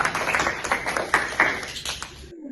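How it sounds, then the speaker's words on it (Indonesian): A classroom of students claps together at a teacher's prompt, brief scattered applause fairly close and moderately loud, ending abruptly. "tepuk tangan dulu buat kita semua"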